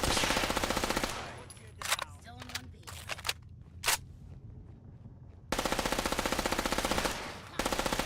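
Automatic gunfire in the video game Fallout 4 comes in loud, dense bursts of rapid shots, with a quieter stretch of scattered single shots and clatter between them.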